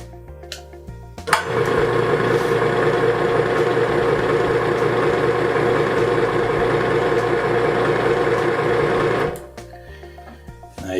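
A Lynrus winch motor starts with a click, hums steadily and loudly for about eight seconds, then cuts off abruptly when its limit switch is tripped, leaving quieter background noise.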